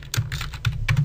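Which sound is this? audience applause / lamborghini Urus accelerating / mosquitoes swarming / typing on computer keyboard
typing on computer keyboard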